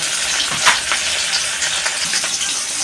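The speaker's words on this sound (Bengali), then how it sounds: "আমার মাছগুলো প্রায় ভাজাই হয়ে গেছে, আমি সব মাছগুলো ভেজে নেব।" Steady, crackling sizzle of rohu fish pieces frying in hot oil, close and continuous, with a few sharper pops and spatters and no voices.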